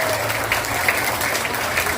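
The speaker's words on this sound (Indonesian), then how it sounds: "Tepuk tangan untuk kita semua." Applause from an audience at the opening of a school mathematics and science olympiad semifinal, dense steady clapping that fills the moment loudly and evenly throughout.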